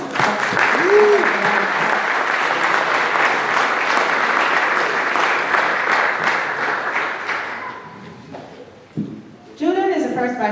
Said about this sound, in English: That alone deserves applause